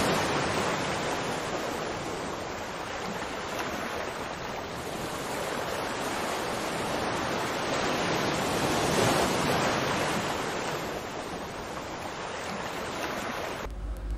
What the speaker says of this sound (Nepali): अहिले बर्खाको समय भएर खोला निकै बढेको रहेछ